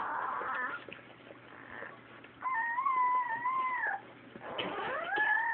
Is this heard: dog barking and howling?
yes